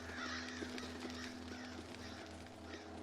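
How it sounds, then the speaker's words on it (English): Crows cawing in the Darkwood video game, faint and distant, with repeated short caws over a low droning ambient hum and soft rustling, with no talking. "A lot of crows."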